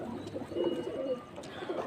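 Pigeons coo softly while eating grain, a few low throaty murmuring coos close by over quiet background noise.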